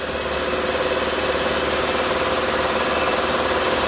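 A Subaru engine holds a steady run at about 2,000 RPM while its air conditioning is being charged, an even, unbroken drone close by with no voices.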